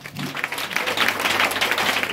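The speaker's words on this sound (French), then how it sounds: "est-ce que tu peux lui donner une fois d'acclamation?" A church congregation applauds during a worship service, a dense, continuous patter of many hands clapping that swells and stays loud and fairly close throughout.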